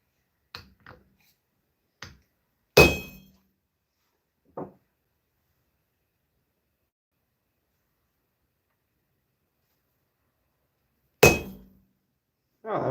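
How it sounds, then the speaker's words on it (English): A big hammer striking a metal hallmark stamp, two sharp, loud single blows several seconds apart amid a few fainter taps and clicks, with near-silence between them. "There's the big hammer,"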